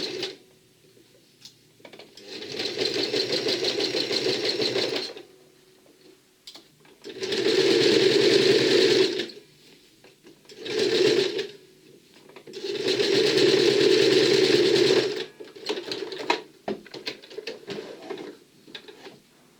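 Sewing machine stitching a neckline facing at a fine 0.7 setting, running in three long steady whirring bursts and a shorter one, with quiet pauses and small clicks between them, close and moderately loud, with no talk.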